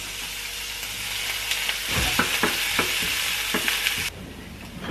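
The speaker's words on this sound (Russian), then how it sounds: "Для начала поджариваем лук." Chopped onion sizzles loudly in a hot pan while being stirred, with a constant frying hiss broken by several sharp scraping knocks from the utensil, close by.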